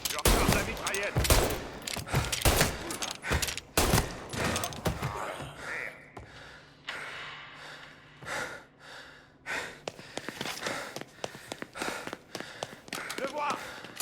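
Bursts of submachine gun fire in the Mafia Definitive Edition video game crackle over heavy breathing and game sound, loud and dense at first, then sparser single shots later, with voices talking in French.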